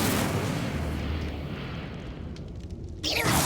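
Incendio fire spell cast in Hogwarts Legacy, a loud roaring whoosh of flame that fades over a few seconds, then a fresh burst of fiery rumble at the end.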